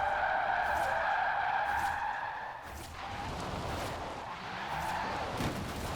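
Electric drift car sliding sideways in Forza Horizon 4, a steady tire screech with a whining motor tone running continuously at constant loudness, briefly dipping midway before resuming.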